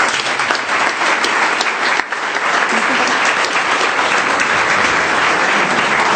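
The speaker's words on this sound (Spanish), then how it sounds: "Un fuerte aplauso, por favor." A large audience at an academic event gives a speaker loud, sustained applause: a dense, steady roar of many hands clapping that continues without a break for several seconds.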